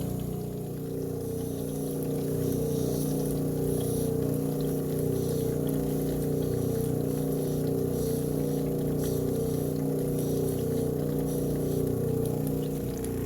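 A 3000-grit lapidary wheel polishes a jade cabochon mounted on a dop stick, a steady whirring motor drone with a wet hiss that holds constant throughout, loud and close.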